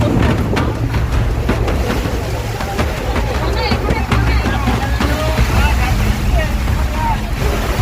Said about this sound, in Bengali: প্রচন্ড পরিমাণে বাজ পড়ছে আর প্রচুর বৃষ্টি হচ্ছে আর হাওয়াও সেরকম দিচ্ছে